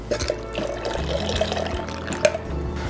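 Lemon juice poured for a Corpse Reviver No. 2 cocktail, a steady close trickle of liquid with light splashes and a small clink near the end.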